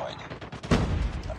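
An Uzi fires in Call of Duty Mobile multiplayer: quick, close, loud bursts of rapid gunfire, with a heavier crack near the middle.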